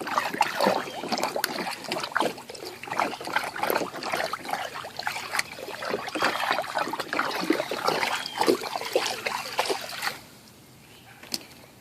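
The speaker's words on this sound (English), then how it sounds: "Give it a little stir." Water sloshing and splashing as a tank in a cellar aquaponics system is stirred, continuous close watery churning that stops abruptly near the end, leaving near silence.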